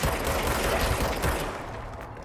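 Enemy gunfire in the action video game Control: a dense, loud burst of rapid shots and fusillade filling the first second and a half, then tailing off into fainter rumble, with no talk over it.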